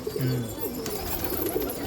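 A pigeon from a racing pair coos in low, soft, rolling notes, close and fairly quiet.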